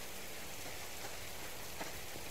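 Steady rain falls in the survival video game Subsistence, an even, continuous hiss of drops on surfaces with no talk.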